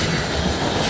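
A CSX mixed freight train carrying Pan Am boxcars, led by an AC44 locomotive, rolls past at close range near Ashtabula with a loud, continuous rumble and rail clatter.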